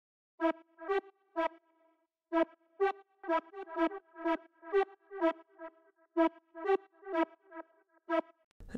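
A tech house track with a Timeless 2 echo plugin: short tonal synth stabs in a clipped rhythmic pattern, with faint trailing repeats between the hits, played alone and fairly clean.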